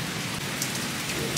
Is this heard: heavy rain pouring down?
yes